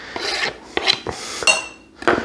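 Chopped vegetables for Italian wedding soup being scraped off a board into a pot, several short rasping scrapes and light clatters close by, separated by brief pauses.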